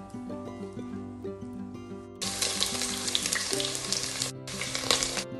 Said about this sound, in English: Let's leave it for a few minutes to get hot and fry the steak.